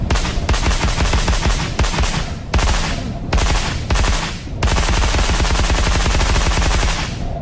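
Unsuppressed MK18 rifle fire in a first-person horror shooter video game: loud, sustained automatic bursts of sharp, rapid shots separated by short pauses, with a long final burst.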